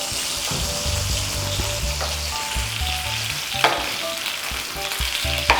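Sausages fry in a pan over low heat, giving a steady, close sizzle with soft crackles and a few sharper pops and clicks as they are turned, and no one talks.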